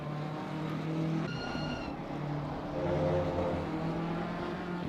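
Race car engine drone with brief tyre squeal in a sim racing game at Brands Hatch, a steady moderate roar with shifting pitch as the car runs through corners, no voices.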